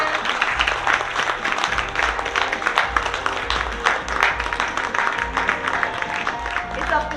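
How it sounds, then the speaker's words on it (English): A big round of applause from ladies and gentlemen at a retirement function, dense continuous clapping filling the room, with voices and background music running under it. "A big round of applause, ladies and gentlemen."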